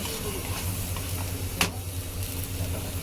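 Aloo paratha roasting on a hot pan, a low steady sizzle running throughout with one brief scrape or tap near the middle, close but soft.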